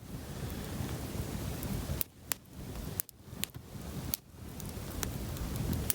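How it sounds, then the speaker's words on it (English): Rain patters steadily at a remote wilderness camp in the Uinta Highlands, a dense hiss of drops on surfaces with a few sharper close taps and brief lulls in the wash. "There's some more raindrops"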